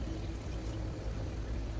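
Water poured into a pot of raw rice to rinse it, a faint, continuous wash of splashing and trickling with no break.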